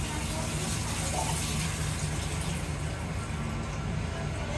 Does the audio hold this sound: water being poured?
yes